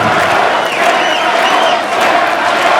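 A loud, dense arena crowd roars and cheers continuously for defending wrestling tag team champions, a sustained wall of ovation with shouts and whoops rising through it.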